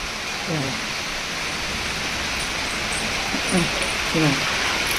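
Rain falls on a road as a constant broadband hiss, while faint, brief voices rise briefly in the background.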